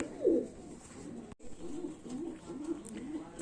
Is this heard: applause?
no